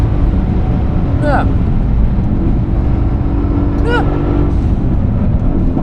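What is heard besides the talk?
race car driving a lap through corners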